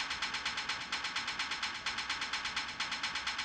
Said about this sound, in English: And then with the Fruity Blood overdrive, the hat sounds like this.